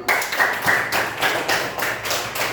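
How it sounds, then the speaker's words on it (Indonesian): A classroom of students claps for the group called Bening, a steady run of sharp, evenly spaced hand claps close by with almost no talking. "terima kasih kelompok bening, boleh tepuk tangan"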